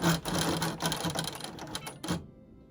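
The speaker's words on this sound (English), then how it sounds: "Now I want to try back stitching a little bit." A sewing machine back stitches on a log cabin quilt, a fast rattling run of needle strokes that slows and stops abruptly, close and loud with no talk.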